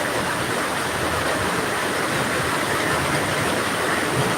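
Floodwater flowing across a road: steady, loud rushing water flows without pause, a dense continuous roar close by, with no voices.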